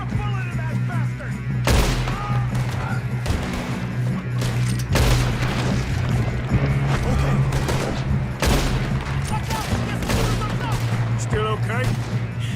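Repeated gunfire in the Red Dead Redemption 2 story mode, sharp loud shots and bursts scattered across a steady rumbling game soundtrack, with voices talking throughout.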